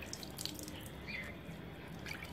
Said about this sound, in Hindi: इसके ऊपर से और मैं ऐसे पानी दे देती हूँ